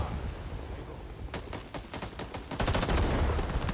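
Fully automatic rifle fire in Rising Storm 2: Vietnam, starting as scattered sharp shots over windy battlefield ambience, then building into a dense, rapid burst of cracks that grows louder toward the end.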